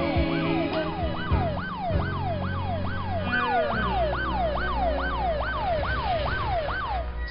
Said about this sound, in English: Follow the ambulance.